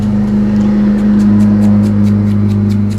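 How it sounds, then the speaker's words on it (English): Steady droning engine hum, loud and close, with the motor's pitch shifting slightly as a lawn mower rolls past. "My husband is mowing the grass and he just passed by the studio window"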